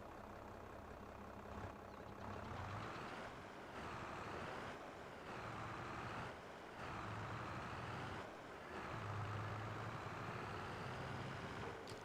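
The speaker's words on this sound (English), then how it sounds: "we'll just grab the green tractor, go pick it up." A green tractor's engine in the Farming Simulator 22 video game drones quietly and continuously while driving, with gently rising and falling tones and a few brief dips.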